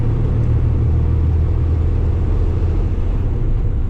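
A heavily loaded Kenworth T880 or Sterling L9500 truck grinds up a steep hill, its engine rumbling loud, steady and low throughout, close by and alone, with no voices.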